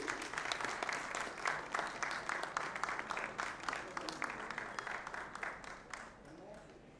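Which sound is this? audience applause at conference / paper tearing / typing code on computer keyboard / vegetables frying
audience applause at conference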